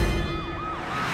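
An ambulance siren wails steadily with a rising and falling tone, loud and close, with no talking over it.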